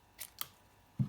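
Scissors snip paper for a wiper card in two quick crisp cuts close by, followed by a soft low thump.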